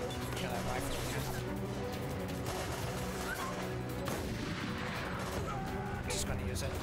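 Rifle gunfire in Resident Evil Operation Raccoon City, rapid repeated shots blending with crashes and battle noise, dense and continuous at moderate loudness.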